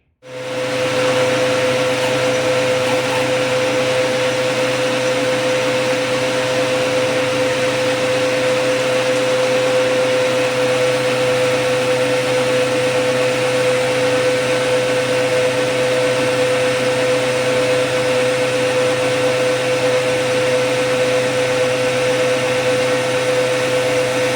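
A Tormach mill turning down a steel TTS tool holder to about one inch diameter, giving a loud, steady machining drone with a fixed whine that runs unbroken throughout, no voices.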